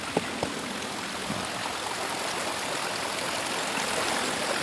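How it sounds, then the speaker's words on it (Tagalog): Creek flowing through forest along a mountain hiking trail, a steady broadband rush of running water with a few faint knocks early on, continuous and even throughout with no voices. "So River Creek."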